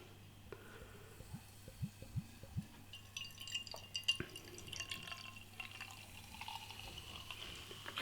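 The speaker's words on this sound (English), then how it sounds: "Giving it a bit of a rigorous pour to create a little bit of a head." Glaab Imperial Pils, a German beer, poured vigorously from the bottle into a glass, with soft splashing, trickling and dripping sounds and a few sharper glassy ticks over a low steady background hum.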